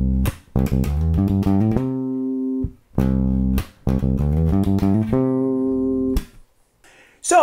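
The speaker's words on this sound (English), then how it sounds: "you just play that round and round until you can get it up to speed" Guitar plays a major pentatonic run at speed, fast clean plucked notes repeating in a cycling phrase with short pauses between repetitions.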